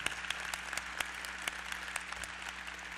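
Audience at an aviation and aerospace hall of fame ceremony breaks into sustained applause, a steady patter of many hands with a few louder claps standing out, moderately distant and filling the whole moment.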